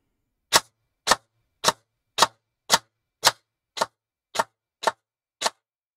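An airsoft gun fitted with a brushless motor fires ten single shots, each a sharp, loud crack, spaced evenly about half a second apart with silence between them.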